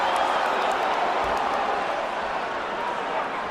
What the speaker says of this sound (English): The crowd reacted, though.